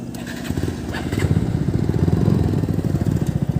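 A new motorcycle with some fault runs its engine with a steady, close, loud low chugging pulse that lasts throughout, with no talk over it.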